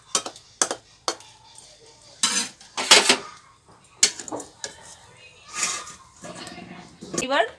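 A cooking pot of boiled taro flower stalks is lifted off the stove in a village kitchen, with scattered metallic clanks and scrapes of pot and utensils between stretches of quiet, interrupted by someone speaking.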